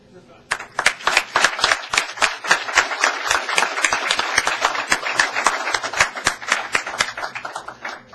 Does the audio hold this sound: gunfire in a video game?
no